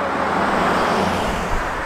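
A Tesla electric car passes close by on a tricky corner of an Oregon coast road, a steady broadband road rush swelling slightly toward the end with no voices over it.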